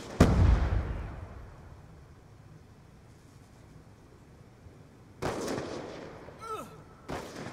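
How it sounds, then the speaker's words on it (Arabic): Grenade explosion and gunfire in the video game Black Ops II: a loud blast opens and rumbles away, later followed by sharp bursts of gunfire with a whistling shell sound near the end. "رميت قنبلة."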